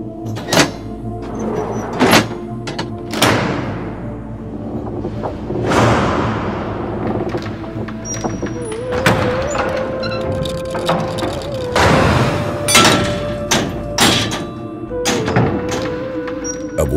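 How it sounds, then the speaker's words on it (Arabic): Large doors of the Prophet's Mosque are shut, with repeated heavy thuds and knocks, wooden clunks and scraping across a busy, fairly loud stretch of handling noise. "أبواب المسجد النبوي تغلق"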